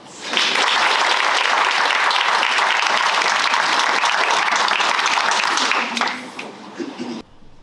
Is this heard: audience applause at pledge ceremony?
yes